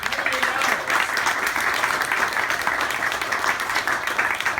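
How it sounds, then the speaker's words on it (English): An audience at a progressive political meeting applauds its delegates with sustained, dense clapping and a few cheers, loud and continuous throughout. "All of them deserve your round of applause."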